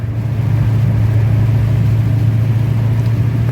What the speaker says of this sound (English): that is the sound of freezing rain.